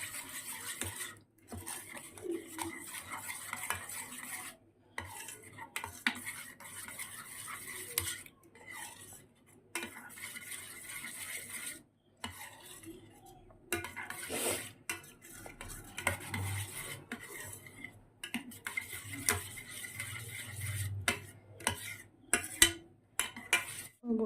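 A spoon stirs apple makhana baby food with milk in a pot, making repeated close scraping and clinking strokes against the metal, broken by short pauses.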